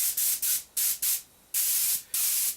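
Extra matte lacquer is sprayed onto a leather cushion in short hissing bursts, about six close spray pulses of varying length separated by brief pauses, with no talking.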